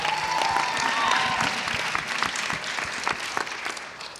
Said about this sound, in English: Yes, round of applause for sure.